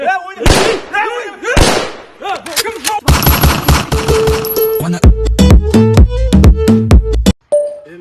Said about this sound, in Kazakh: Папам пистолетті алып шығып аттан.